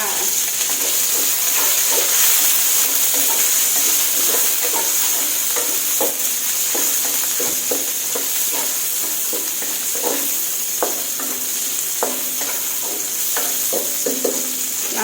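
Baby corn being stir-fried in a pan: a steady, loud sizzle runs throughout, broken by frequent scraping and clinking taps as the spatula tosses the pieces, all close up with no voices.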